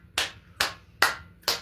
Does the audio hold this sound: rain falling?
no